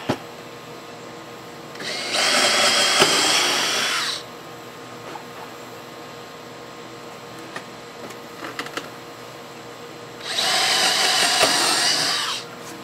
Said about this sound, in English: Now we go over here, drill these.